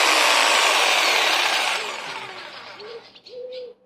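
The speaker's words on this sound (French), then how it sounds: "donc je teste ma scie sauteuse." A power jigsaw buzzes loudly through wood on a folding Magnusson workbench for about two seconds, then winds down, followed by a couple of short spurts of the motor.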